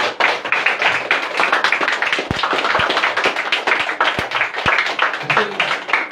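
Hands clap in a quick, steady rhythm, a run of sharp close taps repeated across the whole stretch with a few louder isolated smacks, heard alone without talk.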